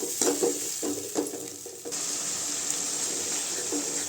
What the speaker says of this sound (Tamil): தக்காளி நல்லா பச்சை வாசனை போகிற அளவுக்கு வணக்கி விட்டுக்கலாம்